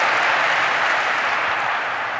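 Dense, steady audience applause fills a large conference hall at a keynote, a continuous wash of many hands clapping that eases slightly toward the end, with no voices over it.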